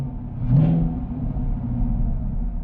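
A 6th-generation Camaro V8 fitted with a C8 LT2 intake manifold idles steadily with a low, continuous rumble, a brief blip of rising revs early on, then settling back to an even idle.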